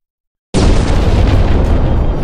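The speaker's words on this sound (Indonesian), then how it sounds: "Kazuma memuji sihir ledakan Megumin yang lebih dahsyat dari sebelumnya" A sudden loud explosive blast after half a second of silence, followed by a sustained roaring rumble that stays heavy and powerful to the end, from an anime explosion spell.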